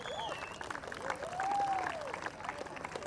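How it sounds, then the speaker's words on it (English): Applause at a women's inter-state cricket tournament in Meghalaya, a steady crowd clapping throughout with a faint, rising whistle-like tone over it. "Can we kindly get the claps to be louder, please?"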